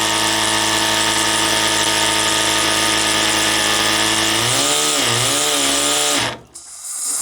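Live steam engine fed by a Scott double-flow boiler, running steadily with a dense, buzzing mechanical drone that wavers in speed near the end before cutting off abruptly.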